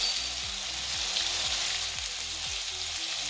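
A raw paste of onion, coconut, ginger, garlic and coriander fries in oil for a Konkani fish curry, giving a constant bright hiss of sizzling over a low, repeating hum, with no talking.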